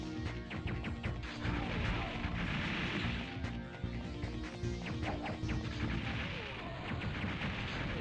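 Explosions from bombs in a Bomberman video game, a steady barrage of crashing booms and sharp pops that overlap one another and keep going without a break.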